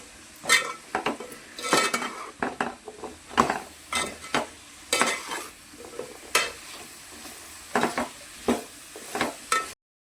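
Sambar ingredients with salt being stirred and mixed in a pot, a close run of repeated scraping and clinking spoon strokes against metal over a faint sizzle, ending abruptly.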